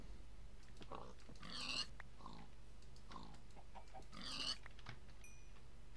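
Pigs grunt and squeal quietly in a Minecraft-style survival game, two brief oinks standing out against low background ambience with scattered soft clicks between them.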